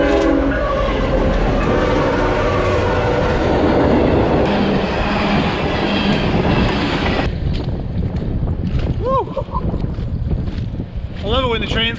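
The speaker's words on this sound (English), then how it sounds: "I love it when the trains go by" Train rumbling past an outdoor training area at Ranger School, a loud sustained roar with wind buffeting the microphone, easing into quieter rolling noise toward the end.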